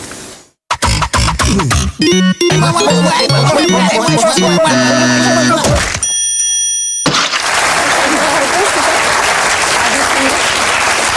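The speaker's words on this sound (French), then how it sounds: "Merci d'avoir applaudi ce petit jingle de Pierre-Alain Bloch alias Piano." A short studio jingle of piano and electronic tones plays in bursts, broken by brief pauses, before a studio audience at a French comedy quiz show breaks into loud, sustained applause and cheering.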